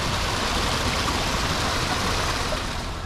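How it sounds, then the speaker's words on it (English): Small garden waterfall at a themed pavilion garden at Epcot, a steady broadband rush of splashing water that holds even and loud for the full three seconds with no voices over it. "It's a little baby waterfall."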